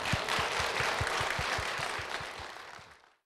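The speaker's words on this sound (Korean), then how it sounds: "여러분 큰 박수로 무대로 모시겠습니다." A church congregation gives a warm round of applause as a young boy is welcomed onto the stage, a steady wash of many hands that swells and then fades out to silence at the end.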